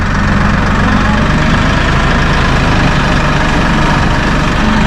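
A Massey Ferguson 1840E compact tractor with a 39.4 hp engine idles steadily and close by, a loud continuous low rumble with an even throb and no pauses.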